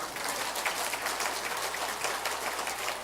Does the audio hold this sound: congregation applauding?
yes